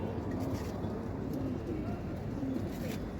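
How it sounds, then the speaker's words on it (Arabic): Rooftop pigeons give repeated soft, throaty coos at a gentle rhythm, fairly close, over a steady background murmur. "في حمام في السما كتير جدا"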